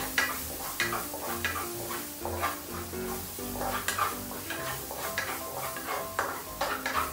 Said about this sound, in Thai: ผัดหัวหอมให้มีสีเหลือง